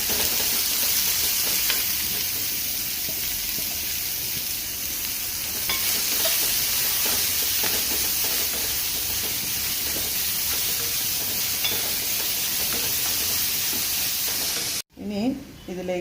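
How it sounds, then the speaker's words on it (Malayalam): Onions sizzle loudly in a pan with browned ginger, garlic and green chili, a dense continuous hiss with occasional stirring scrapes, before a sudden stop and a brief clatter near the end. "ഇനി അതിലേക്ക് ഞാൻ സവാള ചേർത്തു"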